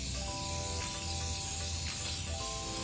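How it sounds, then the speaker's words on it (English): Spray paint in leather brown being sprayed onto a wicker basket, a steady continuous hiss lasting a few seconds, fairly close, over a faint background hum, with no talking. "So we'll spray it and then let it dry."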